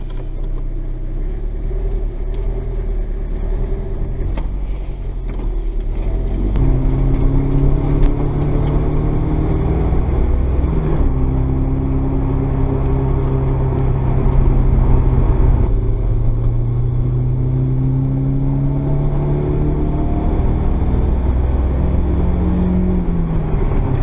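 A Nissan 180SX S13 RS with a turbo, a newly installed Enthalpy ECU, ball-bearing T28 turbo, STI 550 injectors and Z32 MAF on its first drive, loud engine heard from inside the car, climbing repeatedly through rising revs with gear changes between pulls.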